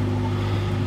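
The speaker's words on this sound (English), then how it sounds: "This truck from Golden State Foods is sitting here with its diesel engine idling at 5:30 in the morning." A Golden State Foods diesel delivery truck idles at 5:30 in the morning, a steady low rumble with a constant droning hum that holds evenly for under a second with no talk.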